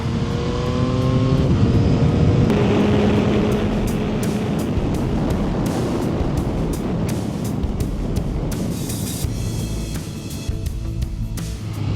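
Sport motorcycle with road-going sport brake pads lapping a race track, its engine a loud continuous drone rising and falling through gear changes, with steady wind and mechanical roar throughout.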